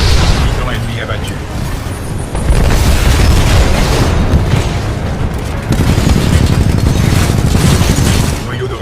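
Loud, dense explosions and booming gunfire from combat in the Titanfall 2 campaign as an enemy Titan is destroyed, a continuous heavy rumble with bursts layered over it.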